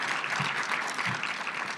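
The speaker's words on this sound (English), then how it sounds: "clap, clap, clap, clap" Applause from an audience at a higher-education association's closing session, a steady wash of many hands clapping together for under two seconds, moderately loud with no pauses.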